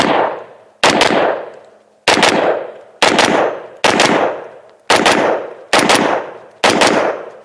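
A rifle fed from a 60-round drum magazine fires in eight sharp, loud bursts, each a rapid crack followed by a ringing outdoor decay, separated by short pauses.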